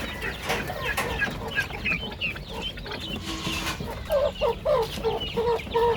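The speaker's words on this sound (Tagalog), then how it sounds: "Mga manok, mga sisiw." Several chickens cluck and chatter continuously nearby on a farm, with turkeys and chicks around, overlapping calls and a few louder squawks.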